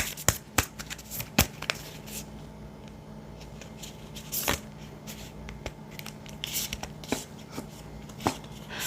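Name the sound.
shuffling tarot cards for an advice card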